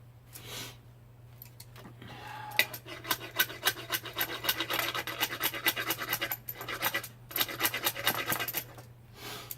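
A knife blade scrapes along a wooden bow to clear off tool marks, giving repeated rasping strokes in a steady rhythm, close and moderately loud, with short pauses between passes and a constant low hum underneath.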